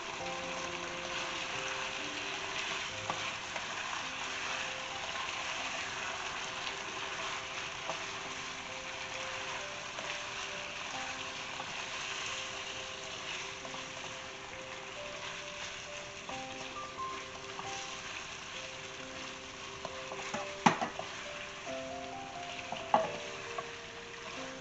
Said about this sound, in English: we will add the tomato, 1 tomato finely chopped, and we will mix it properly